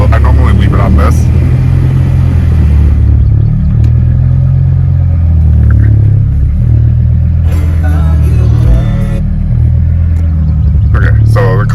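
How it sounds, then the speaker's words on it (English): A BMW M6 with the S85 V10 engine starts up and settles into a deep, steady idle, its low rumble close and loud throughout while someone talks over it. "Okay, so the car started"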